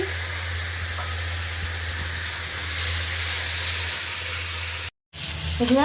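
Spice paste of garlic, chili powder and turmeric sizzles and hisses steadily in a pan after hot water is poured in; the loud, close frying continues, cuts out briefly near the end, then resumes with faint stirring sounds.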